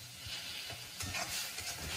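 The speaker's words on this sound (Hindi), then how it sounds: "इसको हम लोग अच्छी तरह भूनेंगे जैसे इसका मसाले का फ्लेवर आ जाए।" Green masala fries in oil for a paneer dish, giving a soft, steady sizzle with scraping stirs of the spoon through the pan, quiet and close.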